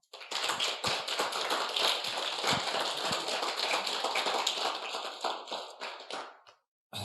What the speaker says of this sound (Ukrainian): дамо Богу славу ще раз оплесками